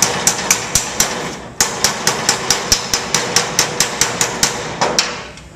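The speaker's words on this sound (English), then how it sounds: "and pounding it down again" A hammer pounds down a folded sheet metal hem on a small metal box handle, giving loud, sharp, ringing metallic strikes in a quick, steady rhythm, about twenty blows with one brief pause partway through.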